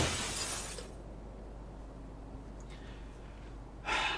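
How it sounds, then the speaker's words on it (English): Glass shatters in the video game Helltaker, a loud bright crash that opens the moment and then drops to quiet, followed near the end by another short burst of breaking noise. "Unmistakable sound of shattering glass following by raised yet indistinguished voices emanating from the house."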